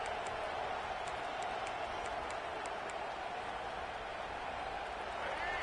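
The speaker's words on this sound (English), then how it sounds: "This crowd trying to make life miserable for this offense." Stadium crowd roar inside the College Football 26 video game, a steady, dense wash of distant fan noise holding at even volume throughout, with faint whistle-like tones flickering above it.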